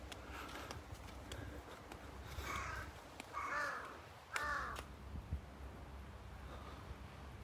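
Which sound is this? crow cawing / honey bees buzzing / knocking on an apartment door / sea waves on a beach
crow cawing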